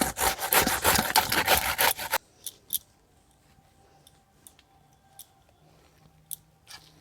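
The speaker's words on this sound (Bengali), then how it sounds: "এইভাবে গ্রেট করে নিচ্ছি।" A bottle gourd is grated for pitha in quick, rhythmic rasping strokes for about two seconds. A few faint taps and scrapes follow in near silence.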